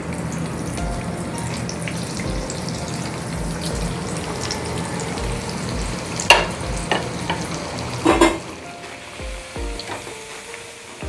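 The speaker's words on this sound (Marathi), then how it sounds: "राहिलेल्या वड्या देखील ना आपण ना तळून घेऊया." Methi vadi pieces fry in hot oil with a steady close sizzle and crackle, punctuated by a few louder clinks and stirring bursts, no talking.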